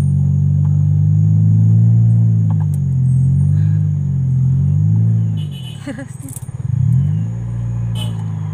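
A learner driver's car idles with a deep, close engine rumble on a steep incline, then the revs change and waver as it pulls away from the hill start, with faint clicks and some talk inside the cabin.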